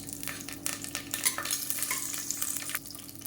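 Whole spices such as fennel, stone flower, cinnamon, cloves, cardamom and star anise, with curry leaves, frying in hot oil for a radish curry: a steady, close, loud sizzle with crackles and the scrape of stirring, no voices.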